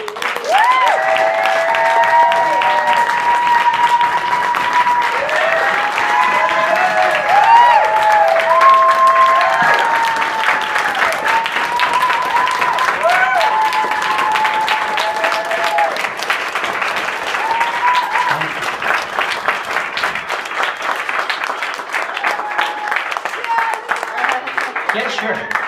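Sustained applause from a live audience at a poetry reading, dense steady clapping with scattered cheers and voices mixed in, holding loud for the full stretch before thinning slightly near the end.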